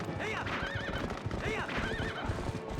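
In the video game Twilight Princess, a horse gives two wavering, high neighs over a steady clatter of galloping hoofbeats, loud and continuous throughout.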